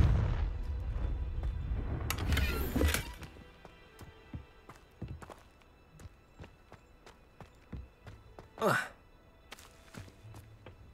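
An explosive Confringo spell goes off in Hogwarts Legacy with a loud, broad blast and roar lasting a few seconds. Scattered thuds, footsteps and a second short burst follow later.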